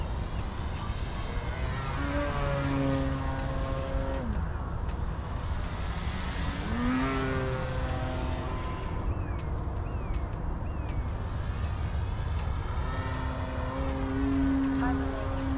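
A CNHL Bison XT 1750mm STOL RC plane flies overhead, its electric motor whining in sweeping rising and falling tones that grow nearer and fade, over a steady outdoor hiss with someone talking at times.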